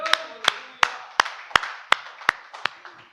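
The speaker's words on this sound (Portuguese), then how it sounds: "Palmas a Ele." A church congregation clapping in praise, about nine sharp, evenly spaced claps in a steady rhythm, fairly close with a slight room echo after each one.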